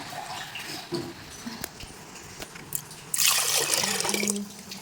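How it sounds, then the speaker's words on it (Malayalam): Water splashes and trickles into a vessel after a few quiet drips and clinks, the pouring louder and steady toward the end. "നമ്മൾ ലേശം കൂടെ വെള്ളം ഒഴിക്കണേ"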